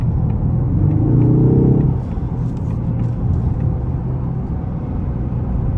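A 2024 Ford Mustang EcoBoost in sport mode accelerating from a standstill toward 100 km/h, a loud, close engine drone that climbs in pitch for about two seconds before settling into a steady rumble.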